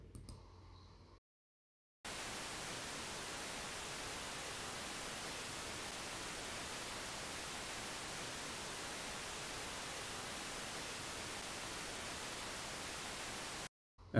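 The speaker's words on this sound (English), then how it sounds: "I have one track with white noise here." White noise from a test track in a mastering plugin hisses loudly and evenly, starting abruptly after a brief silence and cutting off sharply near the end.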